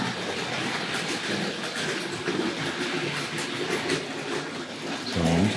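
A Hornby Dublo 0-6-2 tank locomotive model train pulls tank wagons around a layout, giving a steady close whirring rumble with faint rhythmic clatter of wheels on track.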